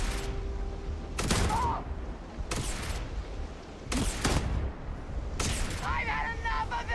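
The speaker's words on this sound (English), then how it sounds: "Shoot to kill!" Gunfire in a Starfield firefight: four or five loud, sharp bursts spaced a second or so apart over a steady background din, with voices shouting between them.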